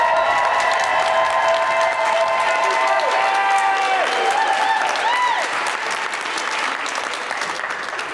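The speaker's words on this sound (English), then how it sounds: "if I could indulge you with a round of applause to make Madeline's birthday extra special" A crowd at a civic competition gives a round of applause, loud and continuous clapping with some faint cheering, while a musical tone sustains underneath.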